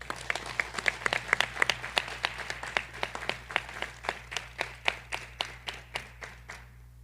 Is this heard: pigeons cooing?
no